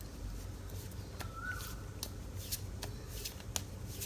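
Tarot cards are shuffled by hand in a quiet room, a faint steady riffling with a few sharp card snaps scattered through it.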